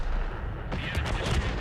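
Tank cannon fire in the World of Tanks game: a steady rumbling battle backdrop with several low booming shots rolling in partway through, no talking.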